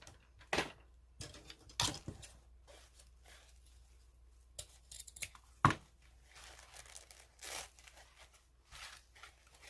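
Scissors snipping the tails of a green ribbon on a glamorous goodie globe craft, a few quiet, crisp cuts in separate bursts with faint rustling and crinkling in between, close up and without talk.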